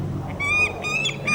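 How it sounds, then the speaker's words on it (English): An excitable owl at a flying display calls close by in a few loud, shrill, harmonic bursts, each repeated after short pauses. "the reason she's quite noisy is she's a very enthusiastic bird"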